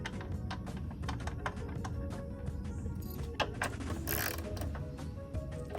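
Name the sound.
tapping a bolt thread with a tap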